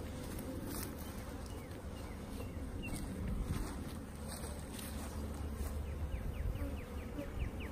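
Honeybees buzz steadily around the entrance of a hive fitted with an entrance reducer, a dense, close swarm hum with individual bees droning past.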